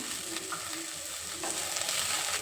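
Chopped beans, carrot and cabbage are stir-fried in a pan for rava upma, giving a soft, continuous sizzle with light scraping stirs, close and quiet with no talk.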